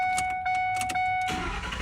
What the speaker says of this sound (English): Truck cranks.